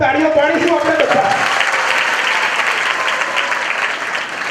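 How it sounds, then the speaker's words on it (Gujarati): Audience at a motivational lecture at Umiya BBA & BCA College bursts into loud, sustained applause that fills the room, with a voice heard briefly over the clapping at the start. "એમના માટે પણ ખૂબ ખૂબ તાળીઓ પાડીશું આપણે બધા"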